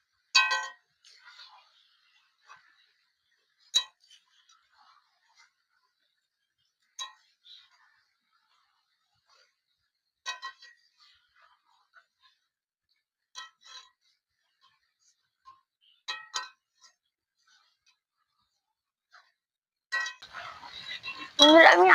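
A spoon clinks and scrapes against a pot while fried potatoes are stirred into chicken curry, with sparse separate knocks spaced a few seconds apart and a busier clatter at the end.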